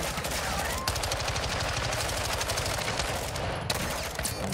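Rapid turret gunfire in Call of Duty Modern Warfare II, a loud, continuous stream of close automatic shots with a brief break near the start and a few sharper bangs toward the end.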